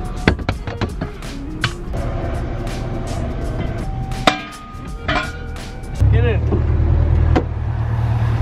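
Honda Integra DC2 fitted with a GReddy Supreme SP catback exhaust, its engine note rising into a loud, steady low rumble partway through after quieter clatter, with a person talking nearby.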